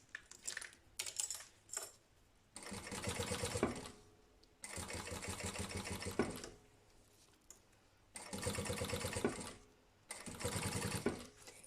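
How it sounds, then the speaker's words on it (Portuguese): A sewing machine stitches close along a zipper on a lunch bag, running in four long, loud bursts with short pauses between them. "E vamos então costurar rentinho ao fecho."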